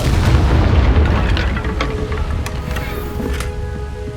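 A Confringo fire spell explosion in the Hogwarts Legacy video game, one heavy booming blast up front that rumbles and decays, followed by scattered crackles and debris pops.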